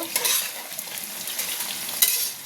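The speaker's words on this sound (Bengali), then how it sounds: "আলু কুমড়োটা আমি বেশি ভাজা করবো না, হালকা ভাজা করব" Potato and pumpkin pieces lightly frying in a pan, giving a steady soft sizzle with occasional scrapes and clinks from stirring, close by with no talking.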